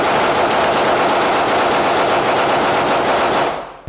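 Rapid string of pistol shots from an S&W Shield Plus Carry Comp at a shooting range, loud and continuous for several seconds before cutting off abruptly.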